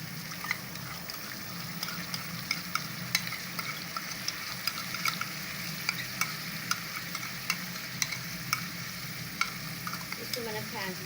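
Yogurt stirred into frying chicken qorma sizzles steadily in the pan, a soft continuous crackle punctuated by regular clicks of the spoon against the pot, fairly faint and with no voices.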